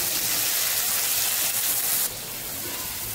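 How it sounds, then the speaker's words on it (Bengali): Shrimp fry in oil in a wok with a dense, hissing sizzle. The sizzle is steady and close, drops in level partway through, and carries on more quietly after that. No voices are heard. "আমি লাউ চিংড়ির জন্য এবারে চিংড়ি মাছগুলো ভেজে নিব"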